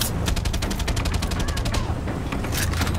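Rapid bursts of automatic gunfire from a weapon in the video game Far Cry 6, loud and close, with steady repeated shots clustered across the first half and again near the end.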